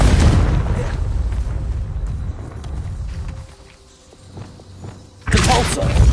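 A Confringo fire spell from Hogwarts Legacy on PS5 bursts with a loud booming blast and thudding impact, fading into a quieter stretch with small pops before another heavy burst at the end.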